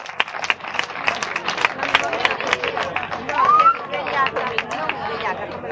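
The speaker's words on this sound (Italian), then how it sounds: "applauso per questo bellissimo incontro" Audience applauding and clapping after a Muay Thai bout, dense rapid claps mixed with cheering and crowd chatter, loud and close, with a brief whistle partway through.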